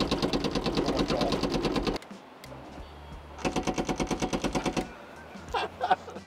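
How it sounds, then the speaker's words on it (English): Power windows on a Fiat Ulysse minivan rattle in a rapid machine-gun-like stutter, two loud bursts of fast clatter separated by a short pause inside the car, with brief quieter knocks after. "These are machine gun windows."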